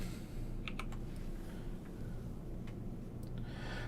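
Rapid typing on a computer keyboard while writing Python code, a steady run of close clicking keystrokes over a constant low hum, with no talking.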